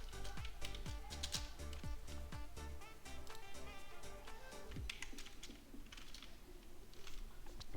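Computer keyboard keys clatter in rapid, irregular bursts of clicks while someone codes in Python, close and fairly quiet, with a faint background tone beneath.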